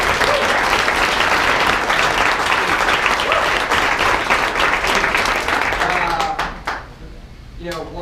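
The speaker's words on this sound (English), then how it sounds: "a round of applause for Henry" Audience applause for Henry at a collaborative lunch gathering: a crowd claps steadily and densely for several seconds before the sound thins and fades toward the end.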